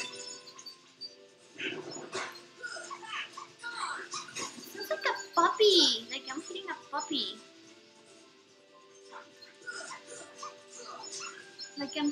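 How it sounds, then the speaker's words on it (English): A squeaky, dog-like whimpering creature sound in the Kingdom Hearts video game, short high yips amid game effects and a player talking over it. "Like a squeaky dog."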